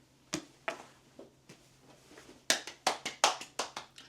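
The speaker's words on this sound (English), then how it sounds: "Round of applause for this one." A single person claps their hands, a few sparse claps at first, then a quicker run of sharper, louder claps, close by in a quiet room.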